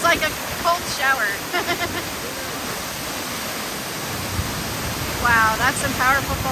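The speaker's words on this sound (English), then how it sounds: "Wow, that's some powerful falls." Little Mashel Falls near Eatonville, Washington roars as a steady, broadband rush of falling water close by, with a few short voices and exclamations breaking in over the constant wash.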